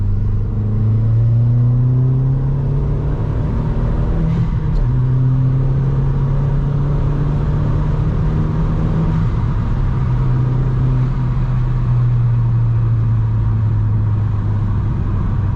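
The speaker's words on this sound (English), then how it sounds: "There is that drone, but you know, what do you expect with a Cupra exhaust system?" A Mk1 Seat Leon Cupra R drones steadily through its Cupra exhaust while driving, a loud continuous low engine hum with slow pitch swells as the revs rise and fall, heard from inside the car with no talking.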